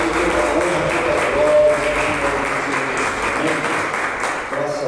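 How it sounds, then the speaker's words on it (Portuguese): A church congregation at a worship service claps together in steady, full applause that fills the room, with a voice and other crowd sound mixed underneath. "Vamos dar aquela linda salva de palmas para Deus."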